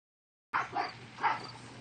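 Dogs at Oaklawn Farm Zoo in Aylesford, Nova Scotia, at feeding time bark in a couple of close, loud yips after a moment of silence.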